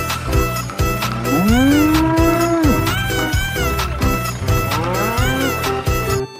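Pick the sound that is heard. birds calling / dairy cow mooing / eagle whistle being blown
dairy cow mooing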